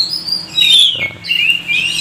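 A kacer magpie-robin sings close by, bright high whistled phrases and chirps in two bursts with a brief pause between them.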